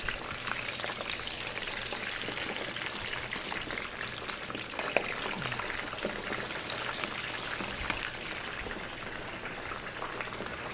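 Food frying in a pan for Appalachian fusion cooking, pieces being heated and crisped; a steady, dense sizzle and crackle with scattered pops runs throughout, fairly faint and without talk.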